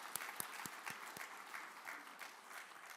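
At a disabilities summit, an audience breaks into a round of applause, a few sharp, close claps ringing out at the start before the clapping settles into a soft, steady patter.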